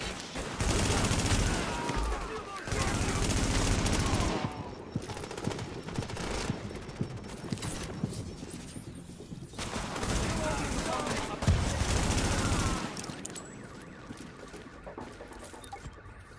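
Gunfire bursts in the video game Tom Clancy's The Division, loud rattling volleys in several long bursts separated by brief quieter gaps, with a voice speaking in between.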